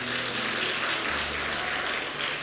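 A church congregation applauds during a worship service, a dense and continuous clapping that runs throughout at moderate loudness with no voices on top.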